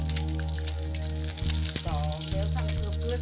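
Fish sizzling in a hot frying pan gives a steady crackle and hiss, briefly interrupted by a spatter, under a loud background tone.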